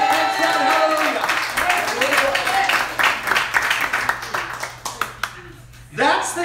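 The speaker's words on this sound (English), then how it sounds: "clap your hands and shout hallelujah" A church congregation claps in scattered, uneven bursts, with voices calling out over a steady low hum. The clapping thins to sharp individual claps near the end before a final swell of sound.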